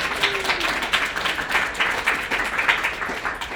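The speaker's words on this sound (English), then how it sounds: "Can we give them a big round of applause?" An audience at a chatbot and multimodal AI design meetup applauds, with dense, steady clapping from a room full of people throughout and no speech over it.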